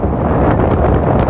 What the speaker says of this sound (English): Man, it's really windy out here.